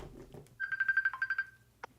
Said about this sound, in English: Sorry about that. I got a phone call.